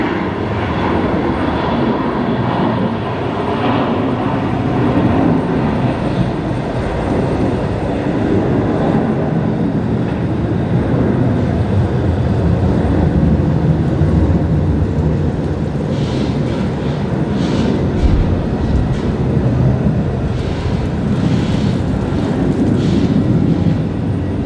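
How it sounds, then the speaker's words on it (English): Distant Airbus A380 jet engines spool up at Brisbane Airport, heard from over two kilometres away as a continuous broad rumbling roar with steady loudness. "There was absolutely some A380 spool up going on there. I'm amazed that we're hearing that"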